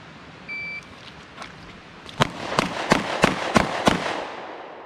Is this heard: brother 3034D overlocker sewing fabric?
no